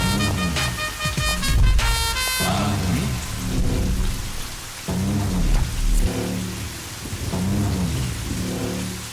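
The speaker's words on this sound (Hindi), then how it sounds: "इतना बारिश गिर रहा है, छतरी नहीं लाए हो का?" Heavy rain pours down steadily with repeated deep rumbles of thunder rolling through, a dense, loud downpour with no voices.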